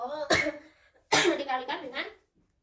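Two sharp coughs, about a second apart, from a sick teacher during an algebra lesson on limits; both are close and loud, the second trailing into a short voiced sound before silence.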